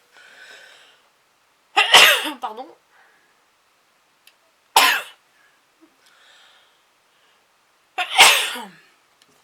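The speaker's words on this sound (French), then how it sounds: "Je vais éternuer." Three sharp, loud sneezes spaced a few seconds apart, close by, with a brief murmured word in between.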